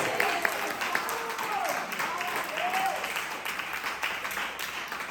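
Congregation clapping during a church service, a moderate, somewhat distant wash of applause with voices and cheers rising over it, steady across several seconds.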